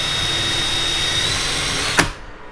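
A power drill whines steadily as it bores a hole through a drill guide, then cuts off abruptly near the end with a short clunk before fading into quiet.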